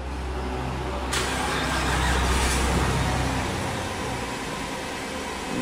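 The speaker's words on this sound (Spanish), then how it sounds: "prende el carro." Car engine running steadily after being started during diagnosis of a stability control (ABS) fault, a continuous broad rumble and hiss with a brief rise in intensity near the start.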